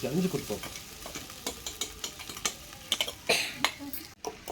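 Mint and coriander leaves sautéing in a pot over a wood-fired stove for biryani, a continuous sizzle broken by repeated scraping stirs and light clicks, close and moderately loud, no talk.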